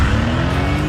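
A Mercedes-AMG GTC Roadster with a bi-turbo engine roars loudly and steadily for about a second, a dense, sustained engine note with no break.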